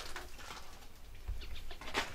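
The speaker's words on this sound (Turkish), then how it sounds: "baksana içeride kuş beslemişler" Pigeons kept inside an old, disused building coo softly with faint wing flutters, heard at a distance amid quiet room noise.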